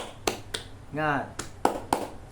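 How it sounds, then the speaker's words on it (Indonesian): Rhythmic hand clapping in the Indonesian tepuk semangat pattern, several sharp claps in a syncopated beat spread through the clip, with a short spoken word in the middle. "tepuk semangat tuh caranya begini"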